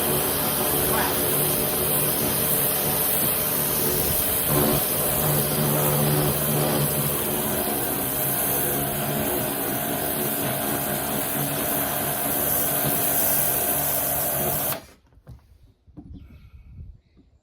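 Karcher Compact K5 pressure washer jetting water onto moss-covered wood, a loud, steady hissing spray close by that runs without a break for about fifteen seconds and then cuts off, leaving a few faint knocks and rustles.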